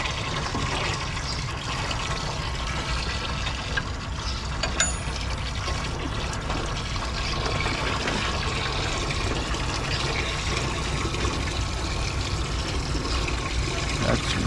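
Coolant gushing continuously from a Detroit Diesel engine during repair, a loud, steady splashing pour that runs unbroken throughout.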